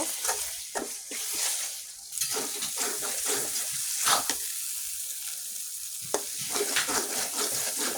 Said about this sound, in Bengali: এখন আমি ভালোভাবে নেড়ে চেড়ে চিকেনটা দিয়ে দেব